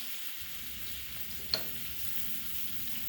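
A steak sizzles gently in a pan with butter and garlic after the heat is cut, a faint steady frying hiss with one brief click, no voices.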